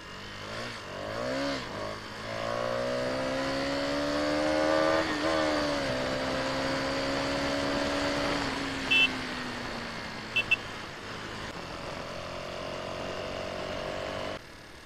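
A KTM Duke 250 motorcycle engine runs steadily up close, its tone rising and falling through several gentle revs, with a couple of brief sharp clicks partway through and no talking.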